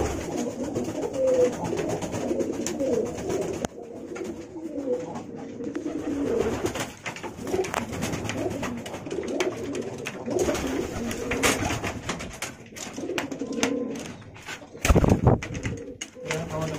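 Pigeons coo during courtship, with repeated low, throaty coos close by and a few wing flaps, while a person talks intermittently nearby.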